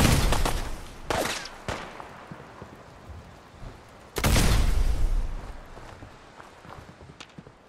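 Gunfire in Fallout 4, scattered shots and sharp bursts: a few cracks early on, then a heavy loud blast a little past four seconds that trails off into lighter intermittent pops and rattling.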